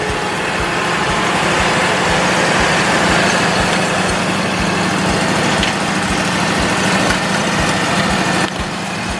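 A walk-behind commercial mower's engine runs steadily at idle on a trade-show floor at GIE Expo, a loud, continuous low rumble with a regular pulsing beat and no speech.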